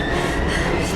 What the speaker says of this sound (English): We've got to get on that train, Ethan.